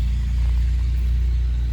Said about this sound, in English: Never mind the loud truck.